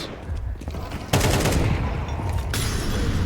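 Dense bursts of rifle fire crackle through a competitive Counter-Strike match, with overlapping shots building into a loud, near fusillade that sharpens around the middle and again near the end.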